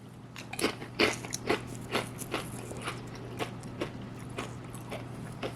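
Kettle barbecue potato chips crunched and chewed close up, a steady run of crisp crackling bites that slowly fade, with no talking.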